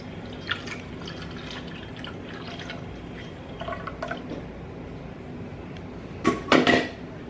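Evaporated milk for a chocoflan pours from a can into a bowl, heard as faint trickling and dripping that ends in a louder splashing glug near the end, close and quiet.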